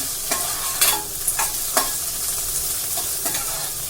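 Onion and chillies sautéing in a mustard seed and cumin tempering over low heat, with a steady sizzle and several sharp spoon scrapes as the pan is stirred, close and clear.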